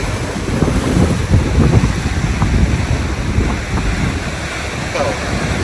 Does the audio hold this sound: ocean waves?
yes